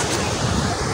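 Strong floodwater rushes down from the mountain during a flood, a loud, steady broadband roar of churning water lasting about a second.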